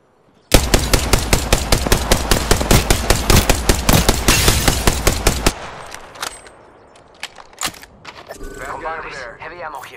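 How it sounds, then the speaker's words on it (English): Rapid automatic gunfire in a video game, a loud close burst of evenly spaced shots lasting about five seconds, followed by scattered single reports, faint clatter and a brief electronic warble. "Shots fired, and they're hitting me."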